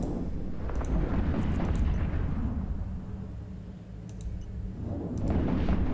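Bursts of rapid gunfire and booming explosions from a video game, loud and continuous, with sharp clicks scattered through.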